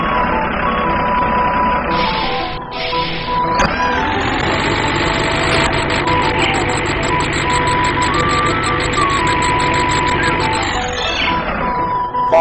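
A tractor engine in a farming simulator game drones steadily and loudly, with a repeating electronic beeping and tonal chimes layered over it throughout.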